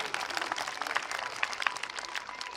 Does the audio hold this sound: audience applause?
yes